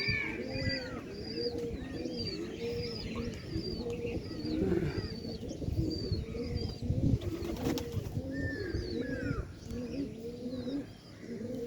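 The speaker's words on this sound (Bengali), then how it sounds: "এই যে সব কবুতরগুলা বিটি হয়ে আছে সব আলাদা আলাদাভাবে" A flock of pigeons, including young birds, coos steadily nearby, overlapping rolling calls repeating in a constant rhythm, with some flapping and faint chirps behind.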